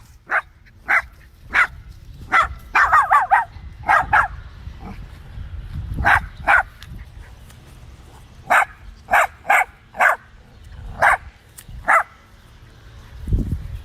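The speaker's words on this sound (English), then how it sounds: "Sunday's the newest puppy on the farm." A young puppy named Sunday barks and yips on a farm in short, sharp bursts, some single and some in quick clusters, fairly close, with quieter pauses in between.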